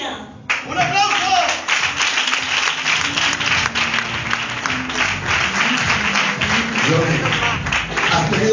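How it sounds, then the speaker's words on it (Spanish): A church audience in Felanitx applauds after a staged soul auction, with dense, sustained clapping from a crowd that stays loud and full for the whole stretch. "¡Un aplauso!"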